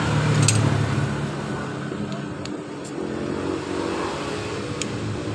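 A Yamaha Mio Sporty scooter engine with its CVT reassembled revs as the throttle opens, a moderately loud buzzing drone that swells and eases steadily, heard alone.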